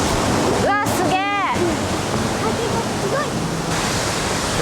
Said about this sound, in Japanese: おしんこしんの滝、結構間近で見ると迫力があります。